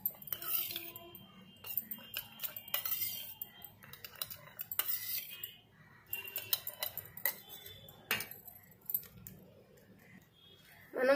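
A spoon scrapes and clinks in a bowl while a homemade natural face scrub is mixed, a steady run of close clattering strokes with a few faint words.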